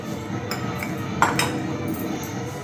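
A utensil scrapes and clinks against a bowl while batter for suggubiyyam garelu is mixed, the light taps and knocks falling in an uneven rhythm, close and fairly loud.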